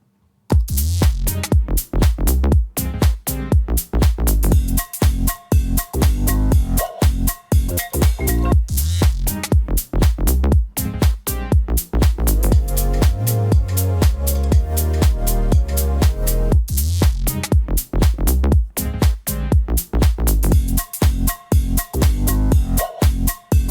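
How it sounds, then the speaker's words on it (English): A house music drop at 120 BPM, built in Studio One, pounds out a loud, steady four-on-the-floor kick with dense synths and bass throughout, and no voices. "Matt, I'm going to just play the drop here"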